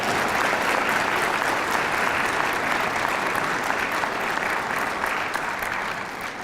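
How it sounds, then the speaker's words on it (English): A crowd at an MLK Day march and gathering breaks into thick, continuous applause, loud and even throughout before tapering slightly at the end. "Let's give them a round of applause"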